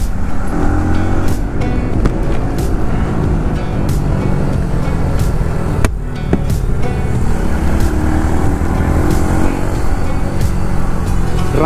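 Fast-ridden motorcycle fitted with an aftermarket exhaust, its engine roaring loud and steady throughout with broadband road and wind noise and brief surges.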